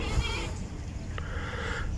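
Goats bleat faintly a couple of times against a rough, noisy outdoor background at a plantation stable in Panabo, Philippines.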